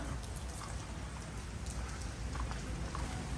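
Rain falls steadily outdoors in Surin province, Thailand, during a sound system installation, making a constant even hiss of drops on surfaces with no voices.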